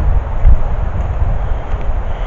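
Wind buffets the microphone outdoors at an old fort, a loud, continuous low rumble with no clear gusts or breaks, filling the whole stretch without any other sounds.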